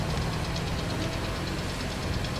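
Car engine from the Far Cry 2 video game running steadily, a dense continuous rumble with a faint rhythmic knock, close and even in loudness throughout with no talking.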